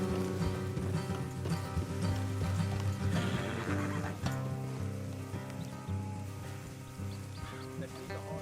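Horses neighing with clip-clopping hooves in the Red Dead Redemption 2 video game, whinnies standing out over steady hoofbeats and a rain-like background hiss, fairly close and continuous.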